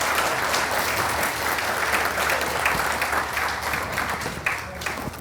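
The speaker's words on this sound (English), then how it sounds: "can we just give a big round of applause for all the volunteers and the organizers?" Sustained applause from the crowd at a hockey hall of fame induction ceremony, even broad clapping at steady volume that thins slightly near the end.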